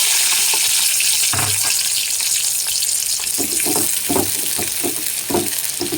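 Sliced onion frying in a spoonful of oil in a pan, a steady loud sizzle with intermittent stirring clatters throughout.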